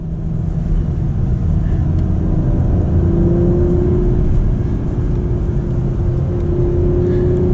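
Acura TLX Type S engine, 2021 model with all-wheel drive, running steadily loud from inside the cabin as paddle downshifts bring automatic throttle blips, a continuous rumbling drone with rising revs and no talk over it.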